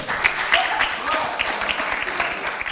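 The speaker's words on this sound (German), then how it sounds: "ich sage schon mal Applaus auch dafür, äh, für diese Arbeit" Applause from an audience at an international Roma youth meeting in Ohrid, Macedonia, a steady wash of clapping lasting a few seconds with faint voices mixed in.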